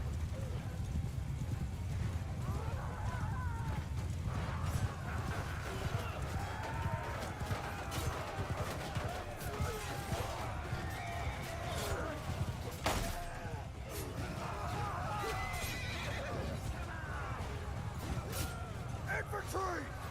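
Cavalry horses gallop in a heavy lance charge in the video game Bannerlord, a dense, continuous drumming of hooves with scattered neighs and battle shouts, loud and close throughout, with voices calling over the clatter.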